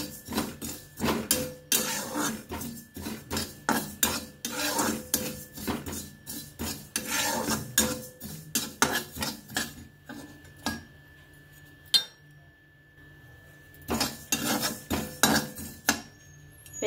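Nigella seeds (kalonji) being stirred as they dry-fry in a pan, giving a close, dense run of quick scraping and rasping strokes that pause briefly partway through, then return in short bursts, with no voices.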